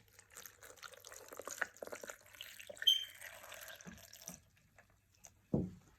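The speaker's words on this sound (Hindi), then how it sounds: "तो अब इसमें हम दूध ऐड करेंगे।" Milk pours into a glass for a milkshake, a faint, close trickle and splash in short bursts with quiet pauses and a final small glug.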